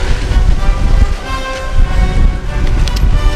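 Strong 35 mph wind gusts buffeting an outdoor camp during tent takedown, roaring loudly across the microphone in surging waves.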